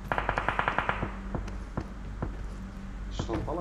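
Rapid bursts of automatic gunfire in PUBG Mobile, a quick volley of sharp shots followed by scattered single cracks and footsteps, heard faintly through game audio with a voice briefly at the end.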